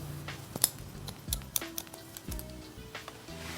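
Scissors snipping hair during a bob haircut, giving several close, sharp metallic snips and clinks at an irregular pace over a quiet background, with no talk.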